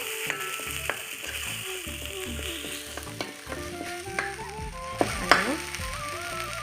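Ground coriander, cumin and spices fry and sizzle in a pan for a koi fish curry with bhedailota, with steady sizzling and spoon scrapes and stirring clatter close by, a louder clink near the end.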